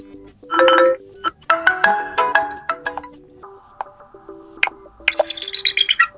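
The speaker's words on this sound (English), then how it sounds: "so now we can select one from these ringtones" A short series of electronic ringtone melodies from a Poco M5s phone plays one after another, bright chirpy tones and trills with brief pauses between, no talking.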